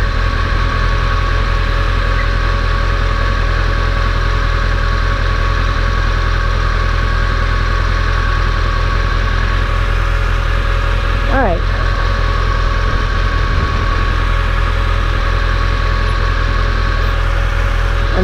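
A motorcycle engine idles steadily in gear on a city street in Boston, a constant low rumble running through the whole stretch with a brief higher whine midway.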